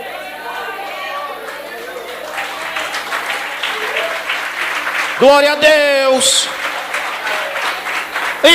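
A church congregation claps during a sermon, a sustained patter of hand claps and murmuring voices, with a man's sung exclamation ringing out above the crowd midway.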